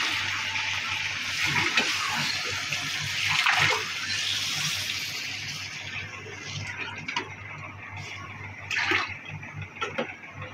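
Water poured into a pot while cooking beef with cabbage, a continuous splashing pour that fades into quieter sizzling and small clinks, nearby and moderately loud.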